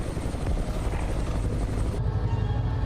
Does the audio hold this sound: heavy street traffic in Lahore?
no